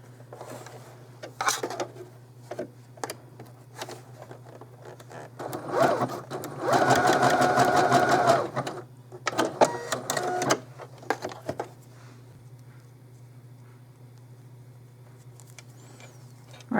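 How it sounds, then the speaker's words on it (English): Sewing machine running a zigzag stitch on curtain fabric, a short whirring burst with rapid needle chatter amid scattered handling clicks and rustles, over a low steady hum. "I'm going to do a little zigzag."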